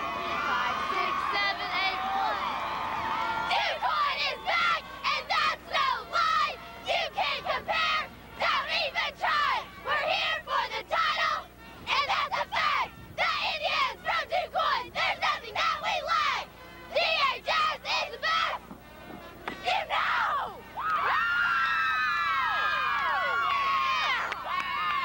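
Cheerleaders perform a competition cheer at a high school football championship game, shouting rhythmic chanted lines in unison with brief pauses, loud and close, with some crowd noise behind them.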